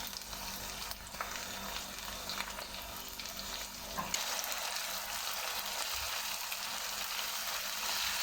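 Green chili paste with ginger garlic paste frying in a pan for chana dal, a soft continuous sizzle that grows slightly livelier partway through, with no talk.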